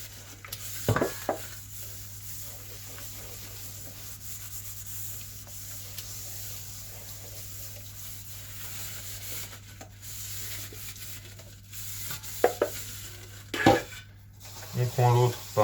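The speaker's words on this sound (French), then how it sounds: "Donc je commence avec la paille de fer. Un peu de produit vaisselle dedans. Je frotte bien partout comme il faut." Steel wool with dish soap scrubbing metal food bowls, a steady close rasping rub that runs throughout, with a few sharper clanks and knocks of the bowls near the end.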